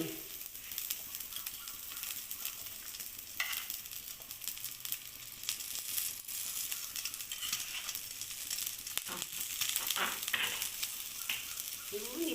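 A hot dog sizzles and crackles in a hot pan, a steady hiss with occasional stirring scrapes, fairly quiet and with no talking.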